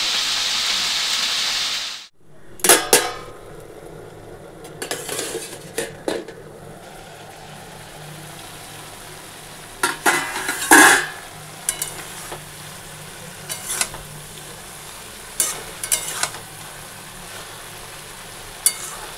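Food sizzles and hisses in a pan during home cooking, with a loud burst of frying at the start, then steady low sizzle broken by repeated sharp clanks and scrapes of a spoon stirring, close up and without talk.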